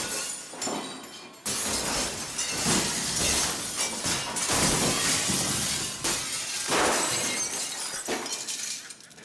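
Glass shattering and breaking, a burst of crashing and tinkling shards that repeats in several loud waves over a few seconds, close and without talk.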